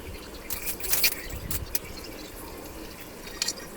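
Hot water poured into a pan of spiced curry masala with cumin and coriander powder, a few short splashy pours and trickles up close, then quieter bubbling.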